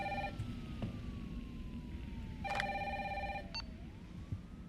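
A telephone rings in Resident Evil 3 Remake with a bright electronic tone in short separated bursts, heard faintly over a low ambient game backdrop with a slowly gliding tone underneath.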